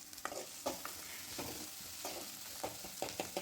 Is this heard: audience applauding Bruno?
no